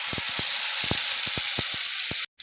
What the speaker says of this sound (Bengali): দেখুন এই যে মশলাটা আমি এখন দিয়ে নিচ্ছি।